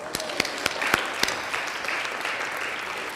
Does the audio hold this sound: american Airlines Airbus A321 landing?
no